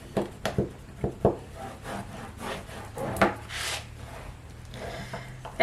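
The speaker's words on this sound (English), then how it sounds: "So I really try to give those areas a really good burnish." A tool is rubbed firmly along the fold of a paper folio cover. It makes repeated close scraping strokes, with a few sharper taps early on and a steady rubbing hiss after that.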